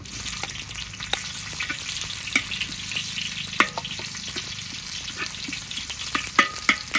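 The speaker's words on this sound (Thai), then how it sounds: "เอาละครับ น้ำมันร้อนแล้ว ใส่กระเทียมลงไปแล้วนะครับ" Garlic, then onion, sizzles steadily in hot oil for a Shan-style banana blossom curry, a dense continuous crackle with frequent sharp pops and spits throughout, close and fairly loud with no voices.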